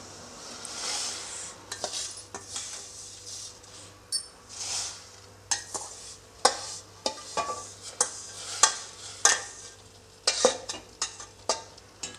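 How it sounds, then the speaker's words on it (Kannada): Vermicelli is stirred into a pot of water for payasa, with a low simmering hiss under a series of sharp metallic clinks and scrapes of a ladle against the pot, near and steady. "ಈಗ ನಾನು ಒಂದು ಪಾತ್ರೆಯಲ್ಲಿ ಅರ್ಧ ಲೀಟ್ರಷ್ಟು ನೀರು ಹಾಕ್ಬಿಟ್ಟು ಇಟ್ಕೊಂಡಿದ್ದೀನಿ ಈಗ ಅದಕ್ಕೆ ಶಾವಿಗೆ ಹಾಕ್ತಾಯಿದ್ದೀನಿ"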